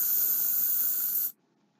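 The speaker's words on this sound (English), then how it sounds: "Magic powers, the spray can will save me." A spray can hisses in a video game, one steady loud burst lasting over a second that cuts off abruptly, followed by a short soft knock.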